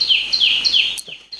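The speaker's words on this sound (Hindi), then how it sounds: "चिड़ियों की जो आवाजें सुनाई दे रही है" Birds chirping outdoors in a quiet park, a loud nearby bird repeating bright descending tweets in quick succession, followed by a brief pause and softer calls.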